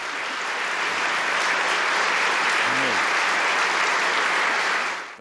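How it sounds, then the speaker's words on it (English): State lawmakers in a large chamber applauding the president in 1982, a loud, sustained roar of clapping that holds steady before cutting off abruptly near the end. "The state lawmakers applauded the president"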